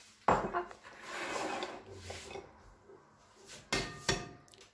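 Two eggs crack against a mixing bowl and are worked open, a few sharp close taps and knocks separated by softer scraping shell sounds, with quiet pauses between.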